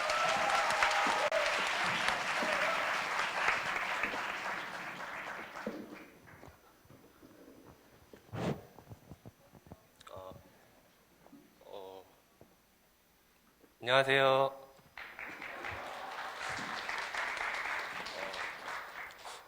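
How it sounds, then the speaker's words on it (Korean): Applause at a Korea University Tigers Day event for an alumnus, rising in bursts among scattered claps and a brief spoken greeting, then swelling again toward the end. "박수 쳐주세요"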